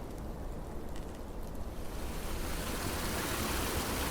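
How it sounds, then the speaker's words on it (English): Water rushes steadily beneath an abandoned bridge spanning a wooded ravine, a continuous broadband roar that swells slightly louder partway through and carries on alone without voices. "The sound of running water breaks the silence"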